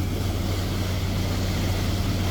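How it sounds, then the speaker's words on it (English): A boat engine idles steadily on the M/V Intrigue, a constant low rumble with a strong hum, running smoothly and without a break throughout. "Engine's running good, no smoke."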